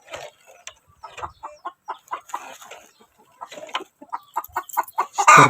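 Chickens cluck close by in a series of short, choppy calls in uneven bursts, with a pause midway before the clucking resumes, clear and alone with no talk.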